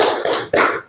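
Two sharp hand claps from a classroom clapping game, each a crisp near burst with a short ringing tail, spaced about a quarter second apart.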